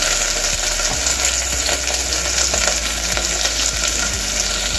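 Steady, loud sizzling of chopped ginger, onion pieces and curry leaves frying in oil in a pan, with occasional scraping and stirring sounds running through it.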